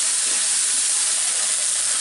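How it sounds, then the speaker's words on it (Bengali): Chopped green chilies and red chili sizzle in an egg masala pan, a loud, close, continuous hissing fry that holds steady for the whole moment without any voices. "দিয়ে এটাকে মিনিট খানেক একটু নাড়াচাড়া করে নিব, যাতে কাঁচামরিচটা হালকা একটু ভাজা টাইপের হয়।"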